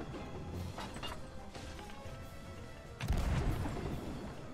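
Cannon shots from a sloop in Sea of Thieves, a few booming blasts with one heavier thud near the end over rumbling sea ambience.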